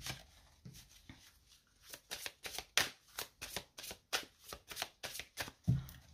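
Oracle cards being shuffled by hand in rapid, rhythmic bursts of riffling and sliding, about a dozen evenly spaced strokes, close and crisp in a quiet room.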